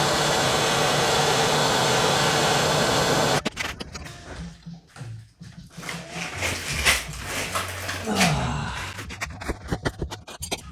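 A MAP gas torch blasts a rusty outer tie rod on a Kia Sportage, a loud steady roar for about three seconds that cuts off abruptly, followed by scattered clanks and scraping of tools on metal.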